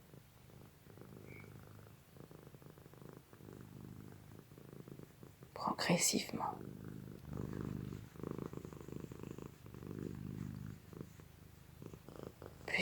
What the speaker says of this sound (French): au son mélodieux du ronronnement